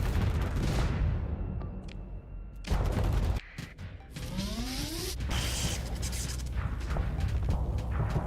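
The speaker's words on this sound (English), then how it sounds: "Is that Tesla cannon noise?" A Tesla cannon fires in the space combat game Starsector, with sharp crackling discharges and rising electric whines over a busy mix of booms and mechanical battle noise.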